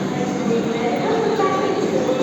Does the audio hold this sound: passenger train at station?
yes